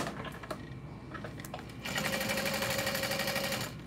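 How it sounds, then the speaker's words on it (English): A sewing machine top stitches along the outer edge of a cotton backpack panel, a steady close whir with a fast rhythmic needle pulse starting about halfway through after some quieter handling sounds. "I'm just top stitching along the outer edge on both sides."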